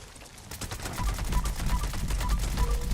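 Gunfire in the video game Fallout 76: a sustained, dense barrage of rapid shots at a steady pace, loud and close, with no talk over it.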